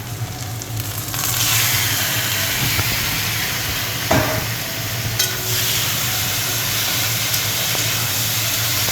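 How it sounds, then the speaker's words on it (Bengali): Onion frying in a pan for a small-fish curry, a continuous close sizzle and hiss with a few sharp spatters and stirring scrapes. "এখন আমি পেঁয়াজটা দিয়ে দিচ্ছি।"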